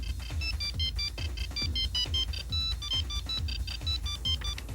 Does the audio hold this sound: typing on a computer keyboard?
no